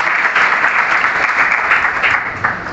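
Audience applause following a speaker at a school debate competition on whether India should have exams: steady, dense clapping from a seated crowd, fairly loud and continuous throughout.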